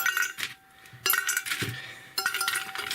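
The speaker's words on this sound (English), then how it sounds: "I'll load this up with ice cubes" Ice cubes clink and rattle as they are loaded into a Stanley vacuum insulated large food jar, several bursts of hard glassy knocks at close range with brief pauses between them.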